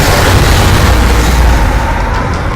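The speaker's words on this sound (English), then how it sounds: "You need to slap up a psychic storm" A psychic storm ability goes off in the video game Space Hulk Ascension, a loud, continuous rumbling boom of blasts that roars steadily for a few seconds and then slowly eases.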